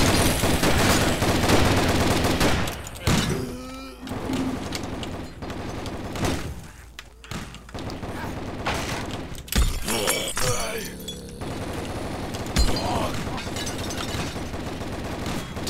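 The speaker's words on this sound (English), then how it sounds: "They're just destroying their own barricades with those grenades" A loud, chaotic barrage of explosions and gunfire erupts as grenades blast apart barricades in the zombie survival shooter Zombie Panic Source, continuous and dense with sharp cracks and heavy thumps throughout.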